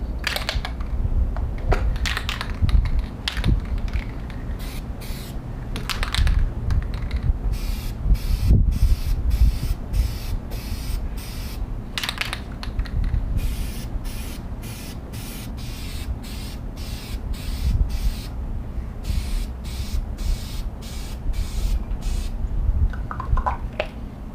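Spray paint applied in repeated short bursts to flag graphics on a Camaro hood liner, each hiss starting and stopping irregularly over a steady low background rumble, fairly close and with no talking.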